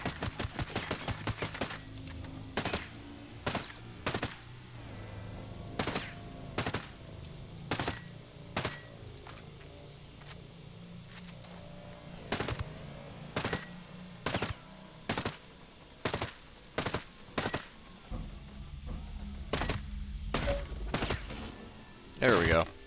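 In Ghost Recon Breakpoint, a G36C Scout DMR fires in a quick burst, then in a long series of loud, sharp single shots spaced about a second apart, ending with a final heavier boom.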